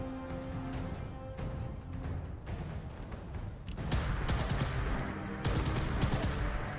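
A Two Shot Plasma Rifle mod fires in Fallout 76. Sharp shots crack out in quick repeated bursts, growing louder and denser in the second half.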